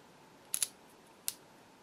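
A Brother JS-23 sewing machine with a sticking, catching shuttle gives off a few sharp, faint clicks: a quick double tick, then a single one a moment later, in an otherwise quiet room.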